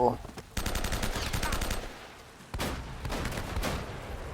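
Rapid bursts of automatic gunfire in two loud volleys in the video game Uncharted: Drake's Fortune, with a short lull between them.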